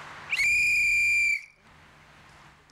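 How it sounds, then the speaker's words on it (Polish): A small, inexpensive toy whistle blown once in a single shrill, steady blast of about one second, loud and close, followed by quiet room tone. "Gwizdeczek mam, niedrogo,"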